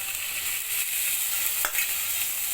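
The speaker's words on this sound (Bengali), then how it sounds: "টক দই দিয়ে অনবরত নাড়াচাড়া করতে হবে।" Whisked sour yogurt being stirred into a Bengali rui-katla fish curry over a low flame, with a soft, steady sizzle and a brief scrape of the spoon against the pan.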